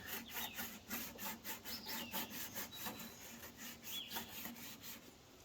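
A file deburrs an exposed axle on a Husqvarna lawn tractor in quick, regular back-and-forth rasping strokes, close by and fairly quiet, with a light metallic scrape on some passes.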